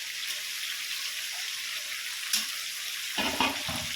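Eggplant and chopped tomato hit oil left from frying fish, a steady sizzle rising into a brief burst of stirring near the end, close and moderately loud with no voices.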